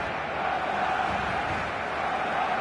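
A steady, dense stadium crowd roar swells evenly throughout a football match in eFootball 2025, a continuous wash of cheering with no distinct individual shouts.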